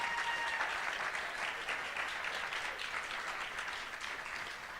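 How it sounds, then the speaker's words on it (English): Graduation ceremony crowd claps for the graduating youths in a sustained, even wash of applause, moderately loud and filling the room throughout, with no voice speaking over it. "Give a clap. Big clap for them."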